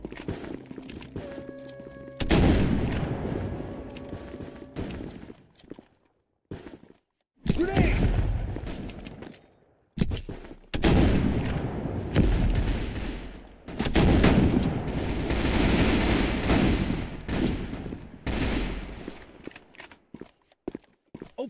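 Counter Blox (CBRO), a Roblox shooter: repeated bursts of loud gunfire with short silent gaps, some sustained rapid runs, heavy and close.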